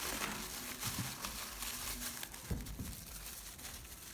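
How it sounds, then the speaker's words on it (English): A clean plastic bag holding wrapped sweet potatoes is squeezed of air and tied tightly, giving faint, close crinkling and crumpling with a few sharper rustles. "Remove all the air and tie the bag tightly."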